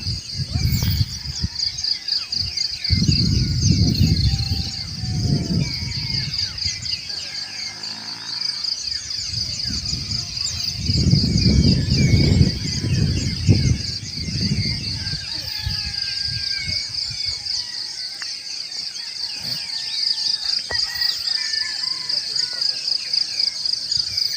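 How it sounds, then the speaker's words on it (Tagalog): Birds chirp and sing steadily alongside a constant high cricket drone outdoors at a campsite in Tanay, Rizal, while a person speaks intermittently over the calls. "Yung yung ingay ng mga ibon. Yan, nagkakantahan sila."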